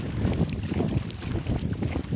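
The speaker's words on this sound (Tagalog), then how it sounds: "lakas mo ng hangin" Strong wind at sea roars against the microphone in a low, gusting rumble, continuous and close, with no speech.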